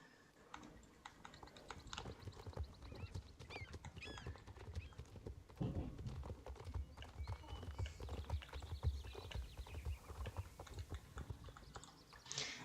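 Steady rapid clip-clop of a horse's hooves on a path in the Star Stable Online video game, an even, quiet stream of crisp taps continuing throughout with no talking.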